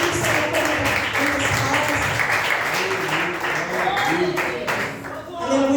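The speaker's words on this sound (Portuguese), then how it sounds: "Com palmas glorificando o nome do Senhor" Church congregation at a Wednesday evening service claps steadily and loudly throughout, with a voice speaking over the applause.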